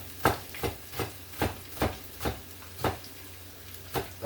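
Tinned mackerel cooking in a pan on a stove, heard as about ten evenly spaced scraping strokes of stirring over a faint background hiss, close and moderately quiet.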